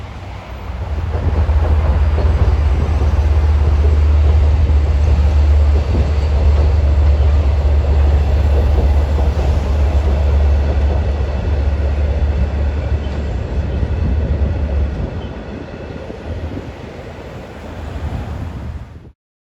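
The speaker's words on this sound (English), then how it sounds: "as the train passes over the trestle, you should hear him throttling up to go up the steep grade into Smithtown Station" Diesel train on the non-electrified Port Jefferson Branch crossing a trestle and throttling up for a steep grade, a loud sustained low engine rumble with wheel and rail noise and wind buffeting, fading in the last few seconds.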